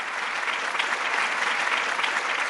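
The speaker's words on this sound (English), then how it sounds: "Ladies and gentlemen, a big round of applause for all the 25 winners" Audience applause at a business awards ceremony honoring 25 most powerful women in Indian business, dense steady clapping throughout without pause.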